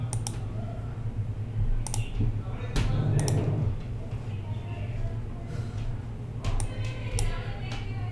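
Scattered clicks of typing on a computer keyboard come in short bursts and single taps over a steady low hum, with a voice speaking quietly now and then.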